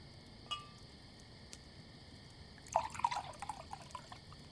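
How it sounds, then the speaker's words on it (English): Spanish red wine poured into a glass at a dinner table: a faint, soft trickle and a few light drips in the second half, quiet and close, with no talking. "A lovely Spanish red wine to accompany it all. I'll pour you some."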